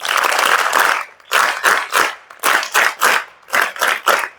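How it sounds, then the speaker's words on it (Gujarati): An audience of students at a girls' school seminar claps loudly. A continuous burst of applause gives way to a series of rhythmic, evenly spaced group claps, close and forceful. "સ્કૂલ માટે જોરદાર તાળી થઈ જાય"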